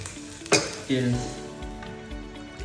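Paneer sizzles in hot oil in a pan for chilli paneer, a steady frying hiss broken by a sharp utensil clink and stirring scrapes against the pan.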